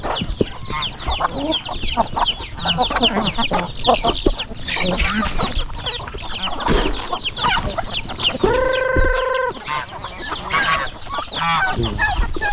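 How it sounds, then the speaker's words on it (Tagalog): Farmyard chickens cluck continuously and overlap one another, a rooster crows once clearly partway through, and faint voices of people mix in among the birds. "mga manok natin dito"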